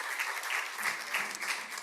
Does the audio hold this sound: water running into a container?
no